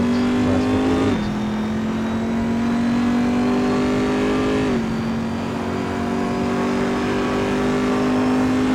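A Corvette race car in a racing video game, on the Mugello circuit, holds a loud, steady engine drone with two quick gear-change dips in pitch and no talking.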